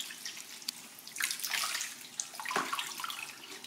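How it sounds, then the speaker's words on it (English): Water drips and trickles from freshly dyed wool fibre after immersion dyeing, small irregular splashes and drips close by, fairly faint, over a quiet background. "because now it's dripping"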